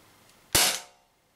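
An Umarex HDP50 pistol running on HPA air at 850 psi fires a single sharp, loud pop that decays quickly into silence, close and with no voices.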